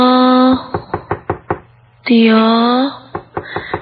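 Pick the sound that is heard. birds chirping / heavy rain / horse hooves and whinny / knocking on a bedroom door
knocking on a bedroom door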